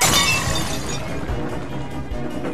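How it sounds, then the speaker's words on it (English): A loud, harsh crash and shatter of breaking glass and metal bursts out at once, then fades into a rumbling, scraping tail. "it was soon cut short by the sounds of tires screeching and metal crashing"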